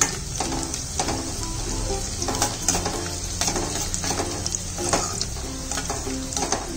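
Garlic sizzles in hot oil in a pan for a Koli-style fish curry, a steady close crackle with occasional stirring scrapes and no talking.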